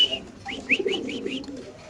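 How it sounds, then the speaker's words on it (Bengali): Racing pigeons in a Bangladeshi pigeon market coo in a short run of soft, repeated low calls with a few brighter chirps, close by and fairly loud against a murmur of background activity. "খুব সুন্দর কবুতর"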